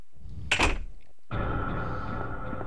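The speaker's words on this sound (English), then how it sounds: "Double doors, watch. Old generic door." Old double doors opening in the video game Resident Evil 1.5: a sharp wooden clunk of the latch, a brief pause, then a sustained creaking, grinding swing that carries on steadily to the end.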